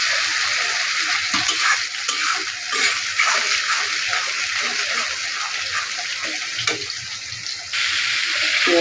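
Chopped onions fry in a pan during village-style preparation of rohu fish curry, giving a steady loud hiss and sizzle with a water-like rushing texture throughout, briefly dipping near the end before resuming.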